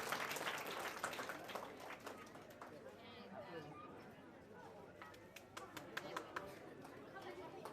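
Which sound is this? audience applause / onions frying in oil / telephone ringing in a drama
audience applause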